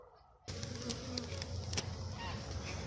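Italian honeybees hum steadily around an opened hive during a December hive check, a dense continuous buzz starting abruptly after a brief quiet moment and holding close and even throughout.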